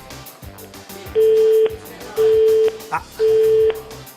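Three evenly spaced beeps sound from a telephone calling a busy mobile, each tone steady and about half a second long, with a voice speaking briefly between them.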